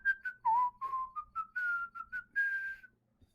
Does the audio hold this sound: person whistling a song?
yes